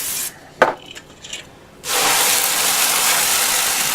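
A brief clatter, then a steady loud aerosol hiss as cooking spray is released into a heated electric fry pan, continuing evenly to the end.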